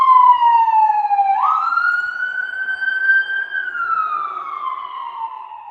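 An ambulance siren passes outside early on a Sunday morning: one loud, sustained electronic wail whose pitch jumps upward, holds, then slowly slides back down as it goes by, with no talking.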